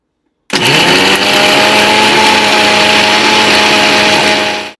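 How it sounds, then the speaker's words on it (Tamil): A kitchen mixer grinder blending coconut, cashew, poppy seed and black pepper with a little water into a paste starts abruptly and runs as a loud, steady, high-pitched whirring motor drone, close, until it cuts off near the end. "கொஞ்சமாக தண்ணி சேர்த்து நல்லா பேஸ்ட்டாக அரைச்சிக்கோங்க"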